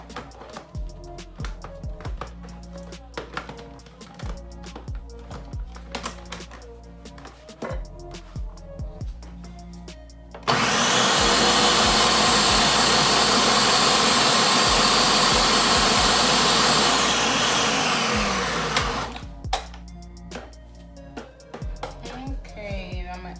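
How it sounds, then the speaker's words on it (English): Blender blending a sauce of carrots, habanero, onion and cabbage: a loud, steady motor whir that starts suddenly, runs for about eight seconds and winds down, with kitchen clatter before and after. "Just try to blend it a little bit more."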